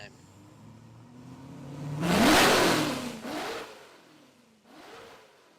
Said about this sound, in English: you can hear the engine starting to roar